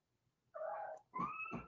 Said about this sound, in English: My cat wants out of the cage I put her in because she would be trouble.